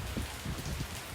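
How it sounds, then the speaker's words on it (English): Rain falling outdoors, a soft steady patter with scattered drops landing on a surface, continuous and moderately quiet, with no voices over it. "I hope you can hear the sounds of the rain in the background."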